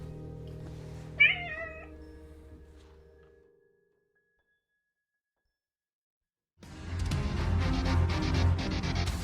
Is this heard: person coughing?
no